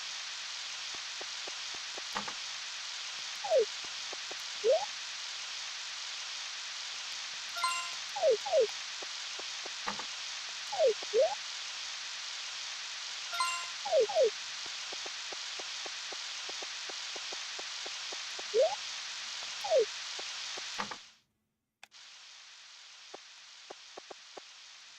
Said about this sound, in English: It must be raining.